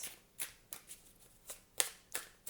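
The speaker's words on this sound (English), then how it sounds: "I do shuffle quite a bit" Tarot cards being shuffled, a series of quick, crisp riffling bursts at an irregular rhythm, close and fairly quiet.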